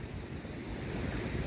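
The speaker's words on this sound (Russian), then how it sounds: "Шторм красивый" Stormy sea surf breaks continuously on the shore in Adler, a dense, loud wash of waves mixed with gusting wind buffeting the microphone, with no voices.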